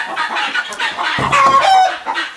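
Farm chickens housed with chicks cluck and squawk in a busy, overlapping chorus close by, with a brief crow-like call rising near the end.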